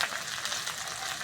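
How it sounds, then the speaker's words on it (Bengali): Ginger garlic paste frying in a pan with lightly fried onions for a fish curry, a steady close hiss and crackle that holds evenly throughout with no talking. "পেঁয়াজটা হালকা ভেজে নিয়েছি, এবার আদা রসুন বাটাটা দিয়ে দেবো।"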